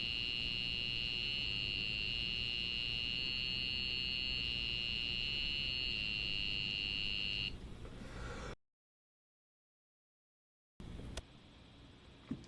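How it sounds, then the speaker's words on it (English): A little beeper driven by the MyFourth, an esoteric CPU, plays 1-bit music as a loud, steady electronic buzz with a harsh, pulsing tone for about eight seconds, then cuts to silence and returns briefly. "That's going to output it to this little beeper."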